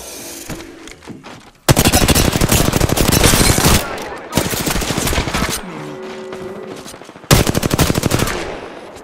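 Bursts of automatic gunfire in the Apex Legends video game, loud and rapid, coming in several long sustained volleys with short gaps between them.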